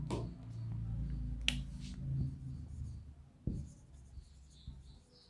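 Writing on a board during an engineering mechanics lecture, with faint, quiet scratchy strokes broken by a few sharp taps and pauses.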